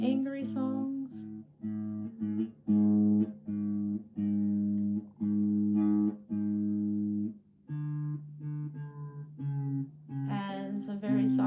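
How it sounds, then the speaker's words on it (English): A musician tunes an instrument between songs at a live-streamed performance, plucking repeated single notes and short phrases in a steady start-stop pattern, close and fairly clear, with a brief lower sustained tone near the end. "Pardon me while I tune again."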